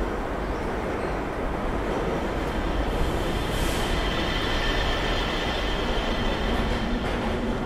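A tram in the video game Black Mesa rumbles steadily along its track, a continuous loud roar with faint rattling and a brief high squeal, no voices.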